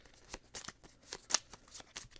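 Soft riffling and flicking of playing cards, several quick bursts at an easy rhythm, close and fairly quiet with no voices.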